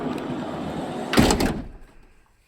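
A 2009 Toyota HiAce van's sliding door rolls open with a heavy rumbling clunk, close by, after a stretch of low background noise; then quiet.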